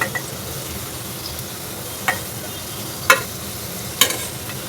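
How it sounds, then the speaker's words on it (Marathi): Onion frying in hot oil with green chilies, a steady low sizzle with a few sharp spoon clicks against the pan, close and alone. "आपल्याला कांदा हलकसा लालसर भाजून घ्यायचा आहे तेलात कांदा भाजून घेतलेला आहे"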